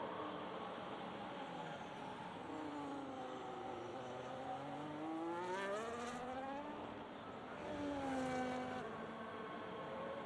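A race car in a racing video game laps the Bahrain circuit, its engine note rising and falling steadily through gear changes and two passes, loud and continuous with no talk.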